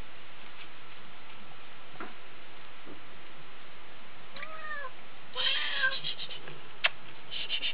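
A cat meows plaintively while being bathed and soaped. A few drawn-out, fairly close meows come in the second half over a steady background hiss with faint ticking sounds.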